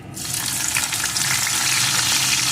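Chopped onion sizzles in hot oil with whole tempering spices in a pan, a steady, close, dense frying hiss that starts abruptly and holds level throughout.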